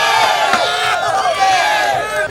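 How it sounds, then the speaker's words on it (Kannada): Audience at the VTU Yukti 2025 event erupts in loud, sustained applause and cheering, a dense crowd roar with scattered whoops that stays steady throughout. "ಬರ್ಲಿ ಜೋರಾಗಿ ಚಪ್ಪಾಳೆ"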